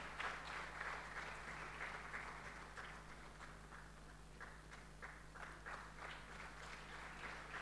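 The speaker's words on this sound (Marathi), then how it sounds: "आपण मोठ्याने टाळ्या वाजवत राहूयात" An audience at a church Sunday service applauds in a continuous wash of clapping, faint and somewhat distant, over a steady electrical hum.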